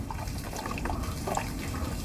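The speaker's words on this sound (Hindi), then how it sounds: "हाँ, और पानी डाल," Water being poured into a large platter of dough mix, a continuous soft trickling and dribbling pour with small splashes, steady and close.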